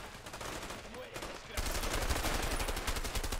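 Rapid automatic gunfire from an enemy in the video game A Way Out, sparse at first, then a dense, loud burst of repeated shots from about the midpoint onward.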